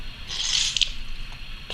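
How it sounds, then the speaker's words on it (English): A wet beauty blender makeup sponge squeezed by hand to wring out excess water, giving a soft close squish and brief spray, then a short second squeeze. "squeeze out any excess"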